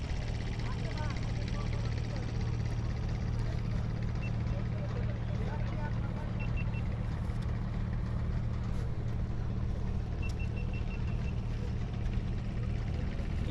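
Trawlers and small motorboats moving along a river near a char in Kushtia, heard as a steady low engine drone that carries through the whole stretch, with a person talking over it.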